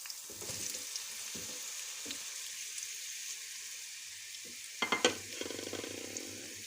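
Zucchini pieces go into hot oil in a pan, setting off a steady bright sizzle with a few utensil knocks and a louder burst of crackling as more pieces are added.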